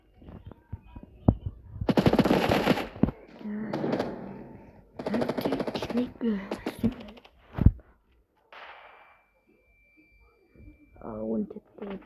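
Rapid machine gun bursts from a video game shooter crackle loudly in several clusters, with voices talking between and over the firing.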